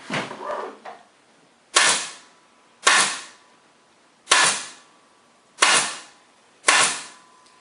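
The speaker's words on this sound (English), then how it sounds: "You got to keep it level when you're stapling." Five sharp staple-gun shots fire at steady intervals while upholstery fabric is fastened onto a VW Mk4 armrest lid. Each shot is loud and close, with a short decaying tail. A softer rustling handling noise comes before the first shot.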